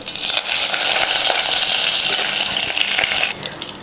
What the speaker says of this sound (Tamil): எண்ணெய் காஞ்சதுமே கடுகு உளுந்து,